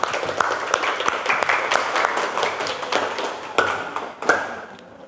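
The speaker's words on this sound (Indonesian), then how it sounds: "Kita beri aplaus untuk kelompok 4." A classroom applauds a group of student presenters, with many hands clapping in a dense, steady patter that lasts several seconds and then tapers off.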